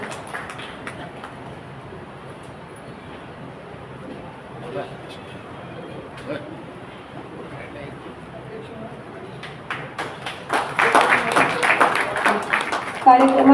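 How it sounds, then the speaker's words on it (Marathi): Audience at an anniversary welcome and book-launch ceremony claps loudly for a felicitation, a dense burst of applause swelling near the end after a stretch of murmuring crowd and room noise. "सर्वांनी जोरात टाळ्या वाजवून या सत्काराचं"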